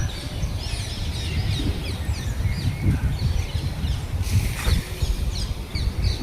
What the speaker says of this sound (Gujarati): કેવી કોયલ બોલે છે.